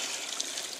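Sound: pond water being siphoned

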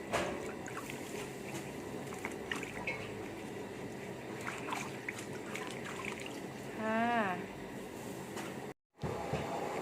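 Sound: washing fresh vegetables in water

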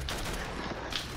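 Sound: gunfire in Roblox Arsenal video game

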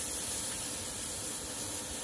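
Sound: sizzling in a cooking pot

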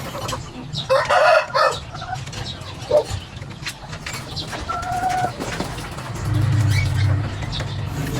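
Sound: chicken clucking

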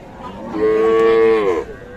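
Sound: cattle mooing at a cattle market

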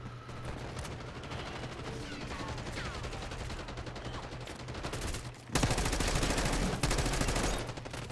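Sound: gunfire in Call of Duty video game

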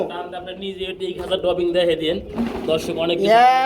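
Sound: red running Baghdadi pigeons cooing

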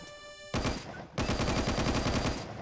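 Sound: automatic sniper rifle firing in video game Phantom Forces

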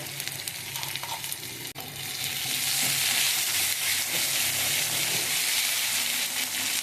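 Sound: onions with salt sautéing in pan

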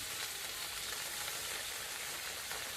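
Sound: vegetables frying in a wok

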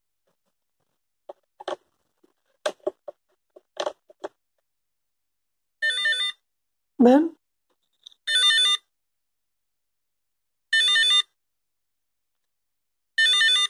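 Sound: recycled buzzer driven by Arduino emulating a telephone ring

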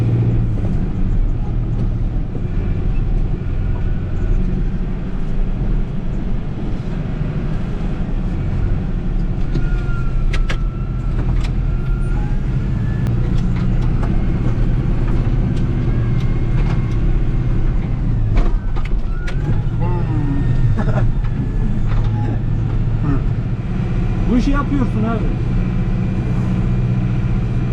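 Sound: Massey Ferguson 5440 tractor driving in deep snow

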